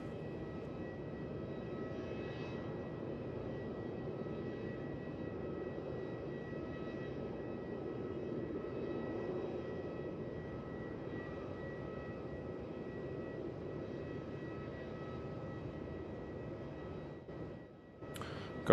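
Airliners depart and land at Melbourne Airport, heard as a steady, distant low engine rumble that persists throughout, with a brief clatter near the end.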